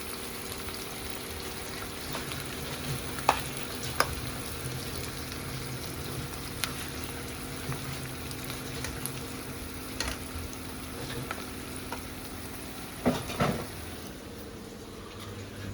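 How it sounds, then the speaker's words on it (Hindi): Onions fry in a pan with a steady, close sizzle and crackle. Occasional clicks of stirring or utensil taps break through, and no voices are heard. "प्याज की होगी अब भुनाई"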